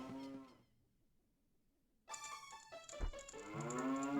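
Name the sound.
cow mooing inside a house in Zelda Ocarina of Time video game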